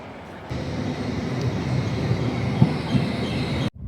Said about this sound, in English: going to get the train now and then head to Bradford.